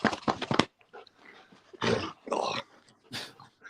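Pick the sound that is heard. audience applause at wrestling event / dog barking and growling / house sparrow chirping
dog barking and growling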